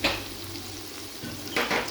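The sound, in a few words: spices added to mutton keema frying in a pan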